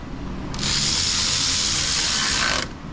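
A ratchet wrench spins in a rapid, even clicking run for about two seconds while fasteners are tightened on the timing cover of a Subaru Forester 2.5 engine, close and loud with no talk.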